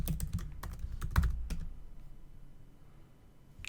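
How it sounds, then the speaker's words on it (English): Fingers tap out a password on a computer keyboard, a quick burst of close, crisp key clicks for about a second and a half, then only faint room hiss. "And I'm going to enter my password."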